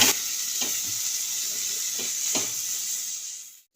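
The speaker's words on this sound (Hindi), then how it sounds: "मैं इन सबको डाल करके अच्छी तरह से फ्राई कर लेती हूँ।" Onion, garlic and ginger sizzle loudly in hot oil, a constant bright hiss with a few soft stirring scrapes, then it cuts off abruptly.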